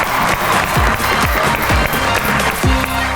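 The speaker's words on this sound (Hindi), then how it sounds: "बहुत बड़े कॉमेडी के सुपरस्टार आप सबकी तालियों में तशरीफ लाते हैं, कैसर पिया।" Audience applause and cheering welcome a comedian onto the stage of a talk show, a steady crowd wash with some thumping beats underneath.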